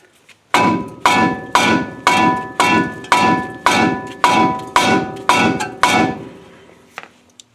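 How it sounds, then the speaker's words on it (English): Ten loud, evenly spaced hammer blows on a rusted brake rotor, each leaving a bright ringing tail, followed by a softer tap. "I had to strike this with this hammer to break it loose"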